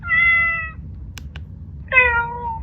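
A Chongker MateCat Pro robot cat gives two electronic meows at its louder volume setting, a pause with a couple of faint clicks between them, fairly close and clear over a low background hum.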